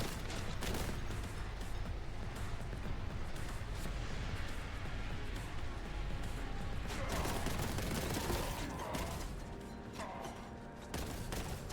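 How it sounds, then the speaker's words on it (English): Dense, continuous enemy gunfire in Warhammer 40K Boltgun, a steady roar of overlapping shots and blasts that stays loud throughout and eases slightly near the end. "they're close enough to fire back"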